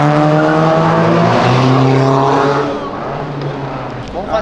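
Cars revving hard and accelerating along an avenue, with loud sustained engine roar rising in pitch as gears climb, then easing off, close and dominant throughout.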